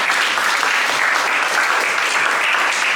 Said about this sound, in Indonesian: kita beri aplaus untuk Nafesa